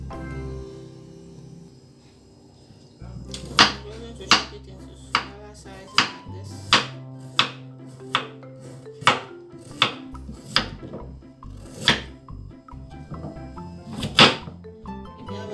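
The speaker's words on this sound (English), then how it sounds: "so I'm just going to chop it off" A knife chops an Ekwang ingredient on a board: about a dozen sharp, evenly spaced thuds ring out close and clear after a few seconds of low background hum, with no talk.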